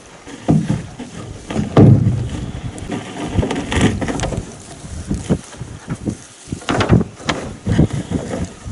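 Wind buffets the microphone on a lake in June during net fishing from a boat, with loud irregular gusts and rumbling thumps, joined by water and boat noises close by.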